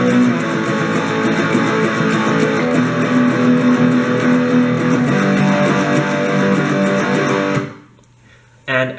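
Electric guitar plays the unmuted intro riff of a song, a dense, loud distorted strummed pattern with steady rhythmic attacks that stops abruptly near the end, followed by a brief pluck.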